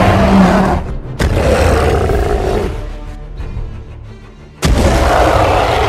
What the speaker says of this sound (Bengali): কিংকং সকলের কথা শুনে ভয়ঙ্কর ভাবে রেগে যায় এবং বিকট শব্দে গর্জন করতে থাকে।